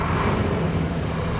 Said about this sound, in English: And give that Volvo engine a rev